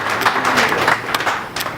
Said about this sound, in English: please give them a round of applause for all their dedication and support